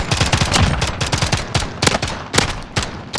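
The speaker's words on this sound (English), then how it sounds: "those pistols have so much ammo" Pistol gunfire in a Call of Duty tournament match pops in a fast, steady string of sharp close shots, repeated in quick clusters with brief gaps, loud and with almost no talk over it.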